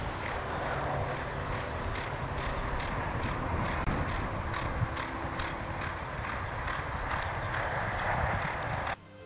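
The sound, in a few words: horses' hooves clip-clopping while walking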